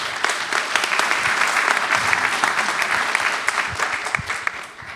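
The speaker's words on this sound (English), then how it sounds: "A round of applause for our panel." A room full of people at a panel discussion claps steadily for several seconds, dense and even, tapering slightly at the end.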